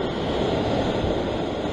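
Ocean waves surging against a rocky sea cliff where anglers fish, a steady loud roar of churning surf and wind with no voices.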